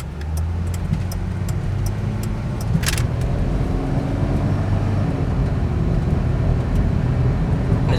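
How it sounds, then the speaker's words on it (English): A 1999 Ford Windstar minivan pulls away from a stop, its engine hum rising steadily under road and cabin noise, heard from inside at a moderate level with no speech. "So we can do it from a stop, do a little bit of acceleration run."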